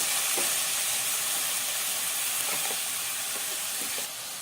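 Spinach, corn and capsicum sauté in a pan, giving a soft, steady sizzle and hiss with a few faint stirring taps and no speech.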